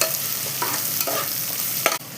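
Sliced onions frying in a pan for Tamil-style kuska, stirred with a utensil: a steady close sizzle runs throughout, with scraping stir strokes breaking through at intervals.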